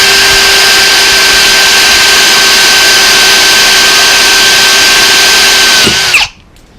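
A loud power drill whines continuously at high speed boring through the end of a wooden stud, then abruptly cuts off, leaving near silence.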